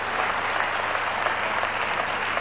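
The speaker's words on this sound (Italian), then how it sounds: "appena hanno sentito dire Bisceglie l'hanno subito applaudita" A studio audience at a talent show claps for a contestant from Bisceglie, a dense, even wash of applause that holds steady and close throughout with no voices over it.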